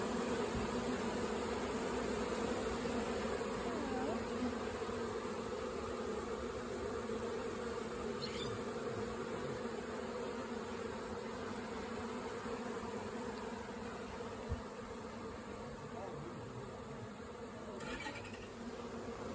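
A honey bee swarm hangs in a tree, its dense, steady buzzing droning on throughout at close range, with no talk.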